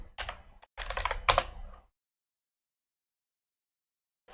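Typing on a computer keyboard comes in two quick close bursts of rapid key clicks, then the clip falls silent.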